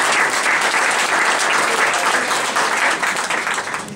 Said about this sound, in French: je demanderai une bonne main d'applaudissement pour Marie-Reine Paradis